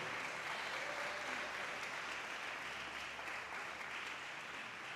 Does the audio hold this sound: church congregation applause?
yes